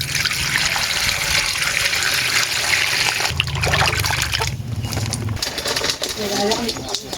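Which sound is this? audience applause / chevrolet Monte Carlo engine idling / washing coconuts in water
washing coconuts in water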